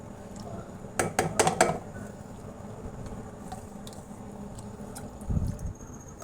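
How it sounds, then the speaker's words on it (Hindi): Milk powder and cornflour mixed in a bowl in a home kitchen for chocolate ice cream, giving a short burst of clinking utensil strokes against the bowl, then faint scraping and a soft thud near the end. "अब मैं इसमें सबसे पहले ये डालूँगी मिल्क पाउडर और इसके बाद ये कॉर्नफ्लोर और इसको अच्छी तरह मिक्स कर लूँगी।"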